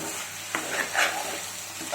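A ladle stirs an okra and tomato curry in a pan, giving a brief close scrape and clatter over a low sizzle.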